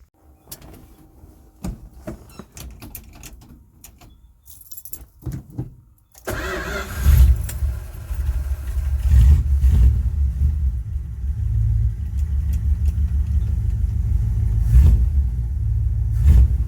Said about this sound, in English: Then we'll give it a start.